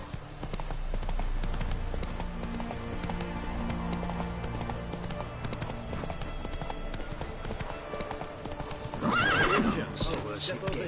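A galloping horse in The Witcher 3 video game pounds out quick, close hoofbeats throughout, with a loud whinny breaking in near the end.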